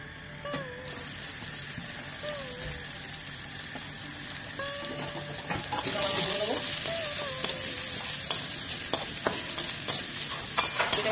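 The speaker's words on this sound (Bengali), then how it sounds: "দিয়ে একটু আমরা ভালো করে তেলে ভেজে নেবো" Chopped onions hitting hot oil in a pan while cooking handi chicken, with a steady sizzle and spatula scraping and stirring that grows louder and busier partway through.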